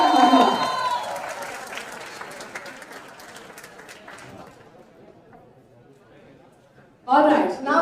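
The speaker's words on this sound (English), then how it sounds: "can we have a huge round of applause once again for Ayush and Mahima." An audience at a film success celebration applauds loudly at the start, the clapping and crowd noise tapering away over several seconds before a brief burst returns at the end.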